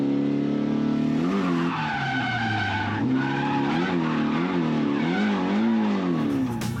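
A low-horsepower car drifts through a feint entry, tires squealing loudly and continuously while their pitch wavers up and down as the car flicks from one side to the other, with the engine droning underneath.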